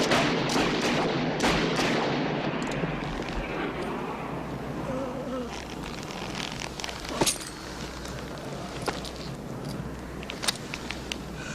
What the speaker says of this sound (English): The sharp, whistling bullets fill the air, and Kavanagh is shot dead.